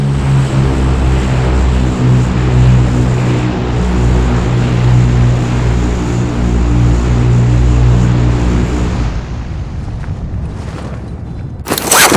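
A loud, steady engine roar of an aircraft passing overhead in the video game Call of Duty: Modern Warfare, droning continuously for several seconds before dropping off, with a sharp burst at the end.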